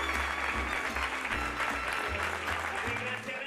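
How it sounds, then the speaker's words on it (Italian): Steady applause fills a neighbourhood street party for a cheerful Catanzaro woman turning one hundred, a crowd clapping continuously at an even level throughout, with a low hum and faint voices underneath. "un applauso grandissimo alla"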